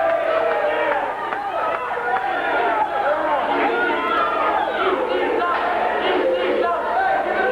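A wrestling crowd in bleachers roars and shouts during a hardcore match involving a pan, a dense, loud hubbub of overlapping voices and yells that holds steady throughout.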